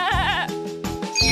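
A goat bleats twice in quick wavering cries, loud and close, followed by a shorter bleat at the end.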